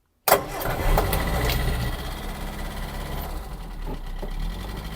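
A cobweb-covered engine, fired up for the first time this year with the ignition, throttle and choke, catches after a sharp start and settles into a loud, rough, steady idle.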